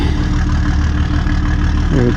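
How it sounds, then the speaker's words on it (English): A diesel truck engine rumbles steadily and loudly nearby, a continuous low idle that runs through the whole stretch with a brief rise in pitch near the end. "God, those trucks are noisy. Those diesel trucks."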